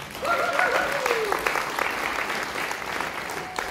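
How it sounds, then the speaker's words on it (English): Applause from a concert audience, a full burst of clapping that peaks early and then slowly tapers while continuing throughout, with some voices and a brief whistle mixed in. "give them another big round of applause"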